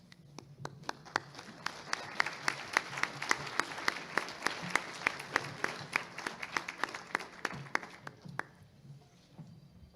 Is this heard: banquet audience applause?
yes